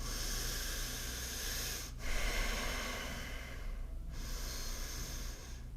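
Deep, slow breaths during a yoga flow, long hissing inhales and exhales close to the microphone, steady and airy, with two short pauses where one breath turns into the next.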